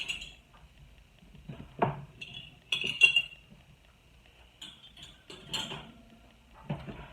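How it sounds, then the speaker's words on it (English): Glass canning jars are taken out and handled by a stove before pressure canning homemade tomato soup. A series of sharp, close clinks and knocks sounds from the jars, separated by short quiet gaps. "I'm going to get out 2 of my jars"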